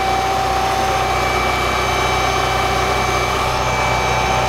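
A car engine runs at a steady idle after an oil leak repair, a constant, fairly loud drone with a whining tone, unchanged throughout.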